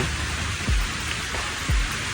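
Steady rain patters and hisses all around near the sea in Balchik, Bulgaria, with a couple of low thumps breaking through the continuous wash of drops.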